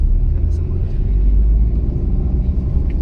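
A car's engine rumbles low and steady during a driving lesson while the driver pulls away in first gear, the motor drone close and continuous beneath an instructor's voice.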